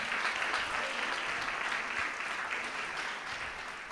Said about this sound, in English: Swaranjali, big round of applause, come on